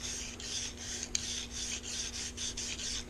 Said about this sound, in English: we'll insert our brush, work that back and forth